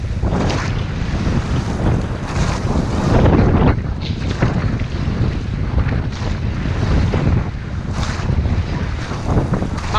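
Steady wind roaring across the microphone aboard a llaut rowing boat during training on open water, a loud, constant rushing blast with waves and spray mixed in and no voices.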